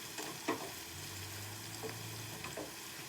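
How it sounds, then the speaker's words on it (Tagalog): Onion sautéing in a pan until golden brown, a soft, steady sizzle with a few light clicks of stirring, heard alone at low volume. "Okay, tapos ilagay ko na yung ating onion. Igisa lang natin siya guys hanggang maging golden brown."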